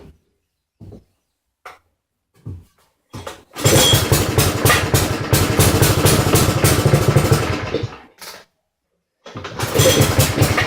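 A Poulan 900 rototiller engine on choke: several short pull-start attempts sputter, then it catches and runs loud and rough for about four seconds, cuts out, and restarts, close up.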